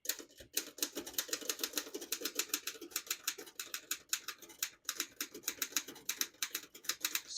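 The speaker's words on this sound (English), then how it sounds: "This could be one of the best typewriters of all time, still to this day, almost 100 years old." A 1927 Royal 10 vintage desktop typewriter being typed on, its keys striking in a fast, steady stream of crisp clacks, close and fairly quiet, with a brief pause partway through and no voices.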